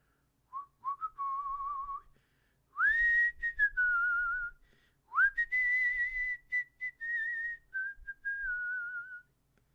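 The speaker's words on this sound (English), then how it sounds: "Bonus points if you know what I was whistling." A person whistles a melodic tune alone in a quiet room, in clear sustained phrases with gliding pitch and short breaths between them.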